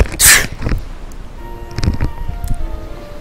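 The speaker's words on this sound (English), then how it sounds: "I need to sneeze." A single sudden sneeze bursts out loud and close near the start, followed by quieter breathing and faint rustling, with brief soft tones in the background.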